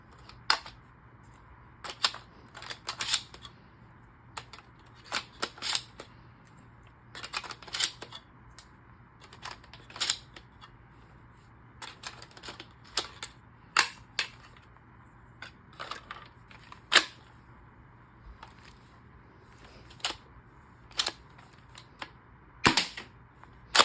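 AGM Mastech shell-ejecting toy shotgun blasters are fired repeatedly, giving sharp snapping pops with mechanical clacks in irregular clusters over a faint steady hum, with no voices.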